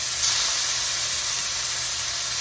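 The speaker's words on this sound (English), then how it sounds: "we're gonna wait for that to get hot, and then we are going to sear our chops" Lamb chops searing in a smoking-hot pan give off a loud, steady, close sizzle, a dense hiss with no breaks and no talking.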